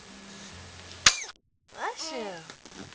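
A baby on a play mat gives a single sharp, close sneeze, followed by a brief silence and then an adult voice speaking.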